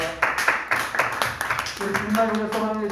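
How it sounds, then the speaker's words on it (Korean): A church congregation claps in quick bursts, then music and voices rise and carry on beneath the fading applause. "주님 앞에 영광의 박수 드리겠습니다."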